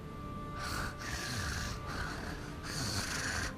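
Heavy, rasping wheezes breathed through a Voxhaler come in long repeated cycles, loud and close against a steady noisy hiss, with no talk over them.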